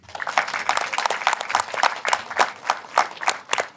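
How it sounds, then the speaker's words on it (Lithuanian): An audience applauds a female racing driver, Indrė Senkutė, at a motorsport gathering. The clapping is moderately close and fairly loud, a dense patter that swells and then thins into a few scattered claps. "jai reikia aplodismentų"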